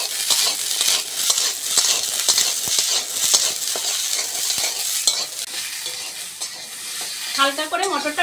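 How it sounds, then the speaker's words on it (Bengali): Green peas fry in a little mustard oil in a kadai, giving a loud, dense, continuous sizzle with steady stirring scrapes throughout and a brief clatter near the end. "হালকা করে মটরটা ভেজে নেবো,"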